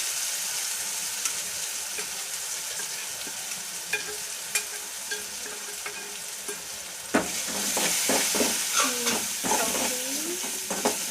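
Browned onions frying in a pan with ginger garlic paste and chili powder, a steady sizzle with clinks and scrapes of stirring that grow busier and louder toward the end, close up.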